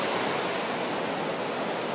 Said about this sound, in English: I'm back at the beach in Chicala,